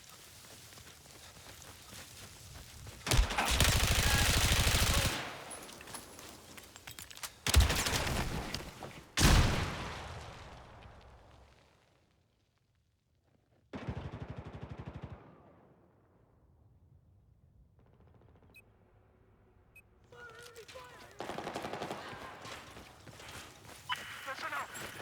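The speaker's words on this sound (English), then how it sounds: "There's an enemy machine gunner south of your location." Battlefield 4 team deathmatch on the Zavod 311 map: bursts of machine-gun fire and heavy blasts come in loud clusters broken by quiet stretches, with in-game voice callouts between them.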